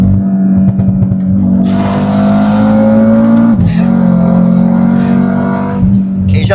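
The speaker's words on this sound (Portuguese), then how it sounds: "E o ronco do escape?" A stage 2 tuned Audi RS3 with the 2.5 five-cylinder engine roars loudly from up close, the exhaust note dropping in pitch through downshifts and crackling on deceleration.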